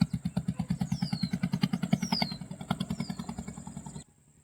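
A repaired fishing boat's engine runs on a trial at Penumudi village, a steady rapid low chugging pulse that carries on for about four seconds before cutting off abruptly, with faint squeaky chirps above.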